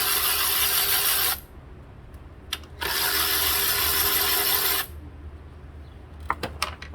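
Ratchet working 10 mm bolts on a ground strap of a 2012 Nissan Altima valve cover, two long bursts of rapid clicking separated by a pause, followed by a few short ratchet clicks, close and alone.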